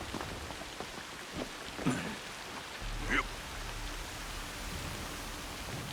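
Rain falling at night under cloud in Assassin's Creed Shadows, a quiet, even hiss of drops throughout with a couple of faint brief sounds rising over it.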